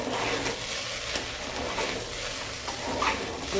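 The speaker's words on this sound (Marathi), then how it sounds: "तांदूळ छानपैकी भाजून घ्यायचं" Rice with asafoetida, turmeric and chili powder being roasted and stirred in a pan, giving a steady soft sizzle with scraping stir strokes throughout, fairly close and continuous, no voices.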